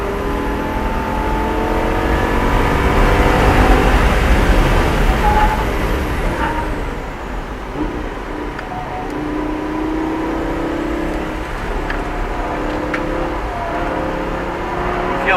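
A Lamborghini LP560-4 engine roars and revs continuously as the car slides around a race track, loud and close, swelling early on and then holding a steady droning pitch with shifting throttle.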